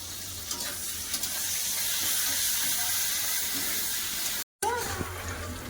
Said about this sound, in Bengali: তেল গরমে গেছে কাঁকড়ালগুলো দিয়ে দেবো কম কম করে দেবো